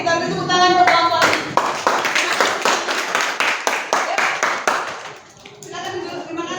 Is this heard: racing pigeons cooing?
no